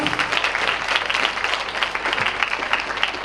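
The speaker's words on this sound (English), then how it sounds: "Please give her an applause" Loud, close audience applause at a preparatory school graduation exercise, honoring the choreographer of a performance; many hands clap in a dense, continuous burst.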